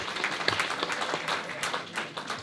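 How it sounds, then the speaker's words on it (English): Graduation ceremony crowd claps for Economics of Development graduates, a brief burst of moderately loud applause with distinct individual hand claps close by. "an applause for all students from Economics of Development"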